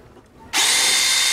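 A power drill bores pilot holes in aluminum. After a quiet moment it starts abruptly into a loud, steady, close whine that holds to the end.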